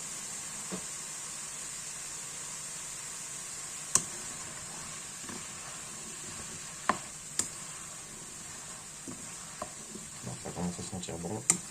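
Food fries quietly in a pan on a ceramic hob, a soft steady sizzle with a high hiss running throughout, broken by a few sharp clicks and taps of utensils; no voices stand out.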